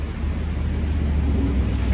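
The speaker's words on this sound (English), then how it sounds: "which sets off a clap of thunder." Deep, rumbling thunder rolls steadily for a couple of seconds, heavy low-end rumble with no voices.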